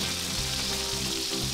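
Food sizzling in a pan while sautéing in the cooking game Order Up!, a steady bright hiss of frying with a low background hum, loud and continuous with no talk.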